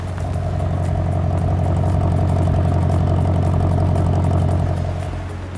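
A 2020 Mercedes-AMG S63 Coupé V8 in comfort mode with the exhaust flaps open gives a steady, deep, rumbling drone at a constant level for the full few seconds, close by, with no talking.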